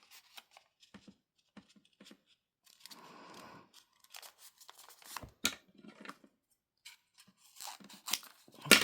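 Scissors snip through paper while a junk journal page is trimmed to size, with several sharp cuts and crisp crunchy bursts, near and fairly quiet, separated by short pauses.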